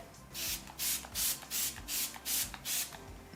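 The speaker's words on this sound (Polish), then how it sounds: "Użyję mojej ukochanej migiełki Smashboxa, Photofinish Setting Spray." Smashbox Photo Finish setting spray misted in a series of about seven short, evenly spaced hissing bursts close by, with brief quiet gaps between them and no talking.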